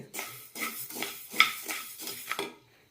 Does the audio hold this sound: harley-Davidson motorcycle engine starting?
no